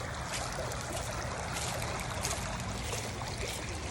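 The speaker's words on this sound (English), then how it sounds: "The water just kind of flows through this narrow part here." Water rushes steadily through a narrow stretch of stream in a scenic outdoor spot, making a constant broad hiss and gurgle, close and even throughout with no voices.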